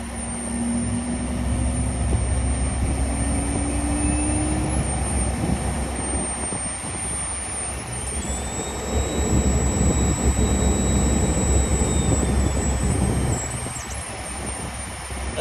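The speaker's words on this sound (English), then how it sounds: "We're gonna go ahead and run both engines up." Both jet engines of a Learjet 60 run up to high power on the ground, a loud sustained roar and whine with a rising turbine tone that climbs further partway through, steady and close throughout.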